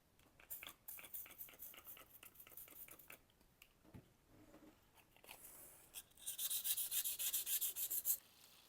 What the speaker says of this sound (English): So I am going to use 400 grit wet dry sandpaper, then I'll hit it with some steel wool.